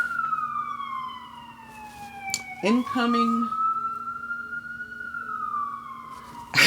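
Emergency vehicle siren passing outside, heard as a loud wailing sweep that falls and rises. A short honk or yelp burst cuts in partway through, and a voice briefly speaks over it.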